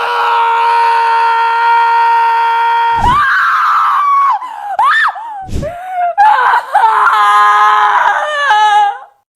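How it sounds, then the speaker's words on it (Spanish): A scream artist performs film screams: a long sustained high scream, then a few broken, wavering shrieks and gasping whimpers with short pauses between them, loud and close. "Estos clips no nos producen entusiasmo, miedo o tristeza hasta que se les añade el trabajo que un artista de gritos realizó."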